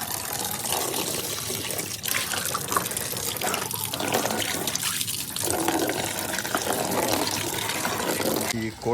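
A tap runs steadily, filling water for hens to drink on a terrace hen farm, a close, continuous gushing flow that lasts throughout.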